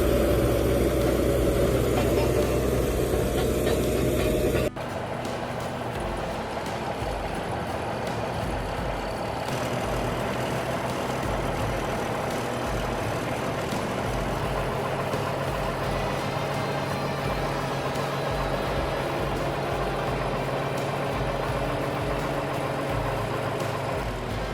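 An abandoned WWII military truck idles with a steady, dense low rumble that holds throughout. The engine is loud and close, with a sudden shift in tone early on.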